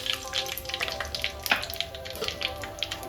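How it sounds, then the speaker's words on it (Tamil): Dried red chillies fry in hot sesame oil for a Tamil chicken fry, giving a steady crackling sizzle with scattered sharp pops, close and moderately loud throughout. "சரி, எண்ணெய் சூடாயிருச்சு. இப்போ என்ன பண்ணலாம், காஞ்ச மிளகாவை போட்டுருவோம்."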